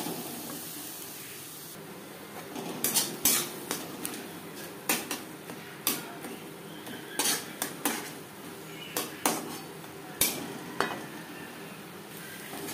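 A spoon scrapes and stirs ghatkol (kharkol) leaf paste in a pan over high to medium flame. The knocks come at an irregular pace over a soft background sizzle, with no one talking.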